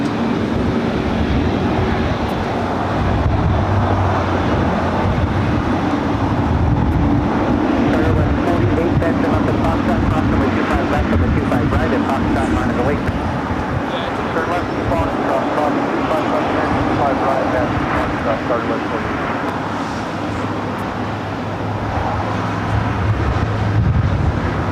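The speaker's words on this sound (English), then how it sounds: "Korean Air Cargo 777 freighter on taxiway Alpha, right in front of our cameras here at Imperial Hill." A Korean Air Cargo Boeing 777 freighter taxies on taxiway Alpha at LAX, its broad steady engine rumble heard from a nearby hill, loud and continuous with a voice talking over it.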